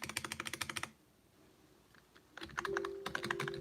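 Fingers type on a Victizen PC146A rubber dome keyboard, which sounds like a mechanical one. Close, crisp keystrokes come in a quick run, stop for a pause, then start again alongside a faint tonal hum.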